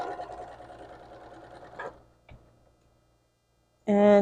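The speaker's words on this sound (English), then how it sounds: "So we're going to switch over to the sewing, and we're going to get this done." A sewing machine stitches quilt strips in a quick, even whir for about two seconds, then stops, leaving a few faint clicks and a short silence before a loud burst of sound ends the clip.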